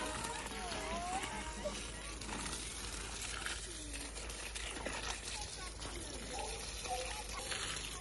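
Water gushes and splashes steadily, like a hose or can pouring onto tomato, aubergine and blueberry plants in a garden, with a constant outdoor hiss underneath.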